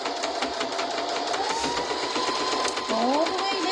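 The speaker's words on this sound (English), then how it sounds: "needle down, back stitch" A sewing machine runs a straight stitch on a fabric bowl cozy, with a continuous close mechanical whir and rapid needle ticking and a brief speed change near the end, while a person talks over it.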